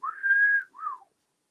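A narrator's voice imitates a low, admiring wolf whistle at a car: one rising-falling whistled note followed by a shorter falling one, clear and close with no other sound.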